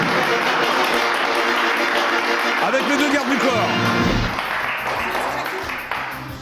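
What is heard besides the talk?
audience applause for Mélissa Mars and Fabien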